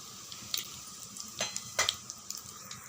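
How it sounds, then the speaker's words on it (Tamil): Mustard seeds, urad dal, cloves, cinnamon and a bay leaf spluttering in hot oil, sparse faint pops and crackles over a low sizzle. "இங்கே பாருங்கள், நல்லா பொரிஞ்சிடுது."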